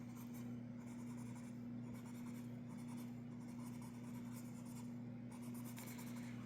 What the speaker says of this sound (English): These pencils were a good choice to use because they are a very fast pencil to color with.